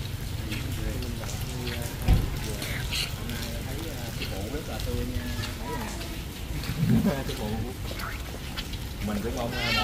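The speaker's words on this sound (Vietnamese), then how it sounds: "mưa thầy ơi" Steady rain falls continuously, a dense hiss throughout as a monk arrives home, with people talking over it.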